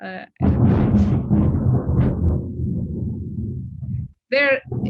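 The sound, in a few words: clap of thunder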